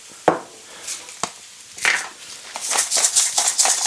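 A pepper mill grinds over a pan of Brussels sprouts with mushrooms in an oyster-sauce dish: a few sharp close clicks, then a rapid run of gritty crunching bursts. No talking.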